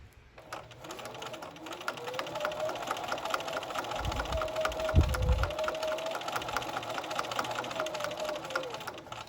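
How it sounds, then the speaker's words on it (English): A sewing machine machine-quilts stitches through a casserole dish hot pad. It runs as a steady, close, continuous mechanical whir with a rapid rhythmic needle patter, alone without talk. "Begin machine quilting by lining up the needle with the drawn line."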